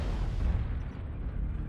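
Missile explosion in a mech combat video game on a map called Tourmaline: a brief, dense, low rumbling blast that stays loud and steady and then dulls slightly, with no talking.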